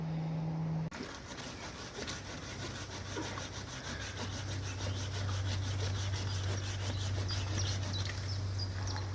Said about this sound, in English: the guy holding the camera's doing all the sawing